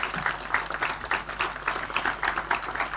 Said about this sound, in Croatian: ja bih zamolila za veliki aplauz za njih